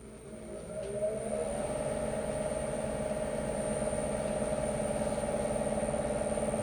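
A wood lathe turns a slightly figured maple bowl at about 1,000 RPM. The motor spins up in the first second, then settles into a steady, even hum with a faint high whine.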